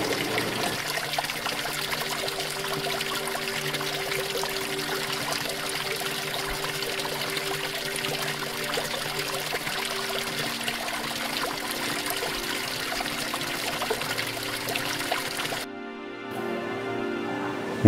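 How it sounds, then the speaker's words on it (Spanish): Water gushing steadily from a natural spring, a continuous broadband rushing and splashing that holds for about sixteen seconds before cutting off abruptly, with no speech over it. "Agua bebida a chorro de la boca de un manantial."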